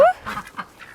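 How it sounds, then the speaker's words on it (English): Ducks quacking outdoors on a small backyard poultry farm in mid-autumn: a sharp call at the start, then a few short, close quacks in quick succession. "Duckies. Oh, quack, quack."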